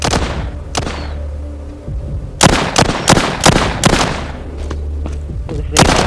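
Repeated gunshots from a zombie shooter video game set in a city, sharp loud blasts coming in irregular bursts over a low steady game background hum.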